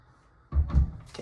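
Closet doors in a hotel casita suite closing, a brief pair of close wooden knocks in quick succession after a quiet moment.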